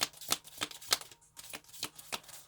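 A deck of cards is shuffled in a quiet room, a series of soft riffling bursts with brief pauses, faint and close, with no voices.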